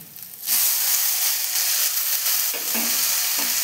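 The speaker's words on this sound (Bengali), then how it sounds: "এখন আমি শাকটিকে ভালো করে ভাজা করে নেব" Water spinach frying in a pan Bengali style, a loud steady sizzle and hiss that bursts in after a quiet start and keeps going, with faint stirring scrapes near the end.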